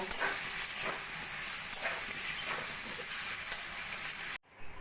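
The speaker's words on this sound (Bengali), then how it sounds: "দিয়ে দেবো অল্প করে কাশ্মীরি লঙ্কার গুঁড়ো দিয়েও ভালো করে কষিয়ে নেব" Chopped tomatoes and Kashmiri chilli powder stir-frying in a pan, a close, steady hissing sizzle with soft stirring scrapes that cuts off abruptly near the end.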